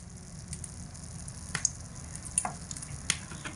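A little white oil sizzles in a hot wok (kadai) while star fruit chutney is being made, a soft steady frying hiss with a few light clicks and taps from utensils.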